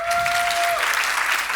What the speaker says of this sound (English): can you give a round of applause to this woman